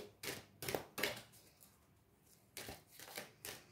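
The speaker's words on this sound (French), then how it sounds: "on va prendre une carte du Queen of the Moon pour terminer le tirage" Oracle cards from a Queen of the Moon deck shuffled by hand for a reading, a series of soft close riffling bursts separated by a quiet pause in the middle.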